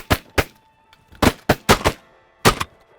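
Shotguns fire during a snow goose hunt in a rapid volley, with about six sharp, loud blasts in close succession, some in quick pairs, each ringing briefly before the next.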